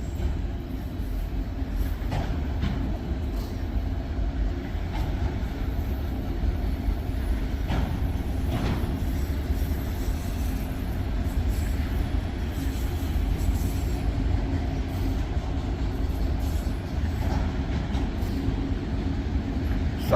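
A long Norfolk Southern freight train carrying vinyl chloride rolls steadily past at close range on Poorman Road, a continuous loud rumble of wheels and railcars with faint rail squeal and clatter throughout.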